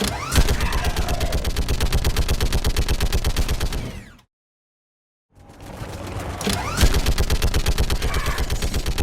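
A mounted machine gun in Mass Effect 3 hammers out loud, rapid, evenly spaced bursts, cutting to silence for about a second before the steady firing resumes.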